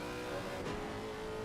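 Porsche race car engine in Assetto Corsa Competizione, a loud sustained rasping roar with a quick rev change midway, steady and close.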